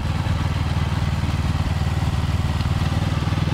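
A motorcycle engine rumbles steadily at a low, throaty pitch while riding around a roundabout, loud and close, with no voices.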